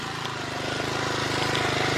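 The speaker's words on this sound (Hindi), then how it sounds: "और सबसे बड़ी बात है मशीन की आवाज नहीं बदली, क्योंकि जिसमें टर्बो इटालियन का इंजन का उपयोग किया गया है" A 5.5 HP power tiller fitted with a plow and an Italian turbo engine runs continuously nearby, a steady, rapid chugging drone that holds an even pitch throughout.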